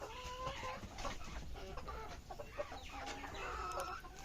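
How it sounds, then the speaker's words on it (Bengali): Two roosters fighting make scuffling clucks and agitated squawks, heard fairly close amid a busy, noisy outdoor background, with sporadic bursts of clucking throughout. "দুই মুরগি পুরো যুদ্ধ"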